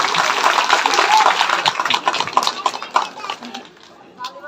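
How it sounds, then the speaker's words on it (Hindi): Audience applause welcoming the chief guest at a Shrimad Bhagwat Katha gathering, a dense burst of clapping that thins and fades out over a few seconds. "इनके एक बार जोरदार तालियों से अभिनंदन कर दीजिए"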